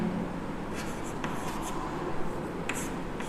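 Punctuation marks are written by hand in short, scratchy strokes, faint and close over a steady background hiss.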